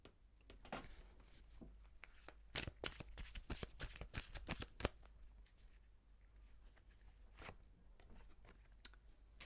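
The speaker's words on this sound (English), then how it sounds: "I'm doing love cards," Love oracle cards being shuffled by hand, a brisk run of close riffling bursts that thins to a few soft taps and card slides.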